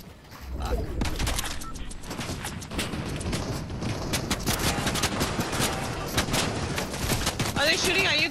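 Rapid bursts of gunfire in Fortnite rattle densely and continuously, near and fairly loud, mixed with clattering action sounds while players talk over it.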